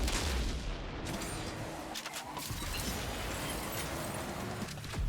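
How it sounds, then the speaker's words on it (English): A rocket launched from a combat vehicle in a ballistic vehicular roguelite game, heard as a dense, continuous roar of booming blasts and rumbling fire that fills the whole clip, loud and close. "Fire the rocket. Kill whoever is within firing range."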